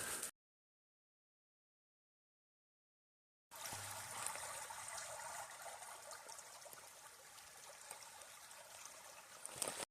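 Creek water flowing over rocks along the Ozark Trail between Brazil Creek and Berryman campgrounds, a steady faint rushing trickle that starts after a few seconds of silence.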